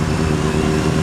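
Close, loud engine note of a 2013 Triumph Street Triple R motorcycle, a steady buzzing rumble held without break through a brief moment.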